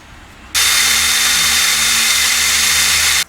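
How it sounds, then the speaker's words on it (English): A power drill with a 3/16 bit bores a hole in plastic inside a 1986 Mustang GT, a loud steady whir that starts suddenly, runs about three seconds close by, then stops. "We'll get this nice and tight up against the plastic, drill a hole"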